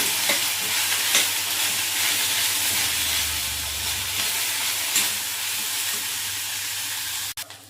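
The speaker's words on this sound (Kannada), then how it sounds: "ಸ್ವಲ್ಪ ಅದು ಹಸಿ ಸ್ಮೆಲ್ಲೆಲ್ಲ ಹೋಗೋವರೆಗೂ ಈ ಥರ ಬಾಡಿಸ್ಕೊಂಡ್ರೆ ಸಾಕು" Ingredients for basaaru, a field-bean curry, sizzle and hiss in a hot pan while being stirred, a steady, close, continuous frying noise with no talking, ending in a brief click.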